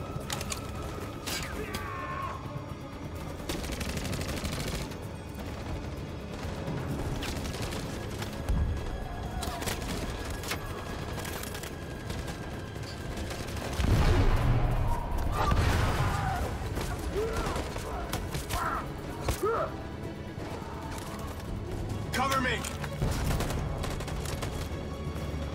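Covering gunfire in Detroit: Become Human, scattered gunshots and mechanical clatter in a noisy scene, with a louder flurry of shots partway through.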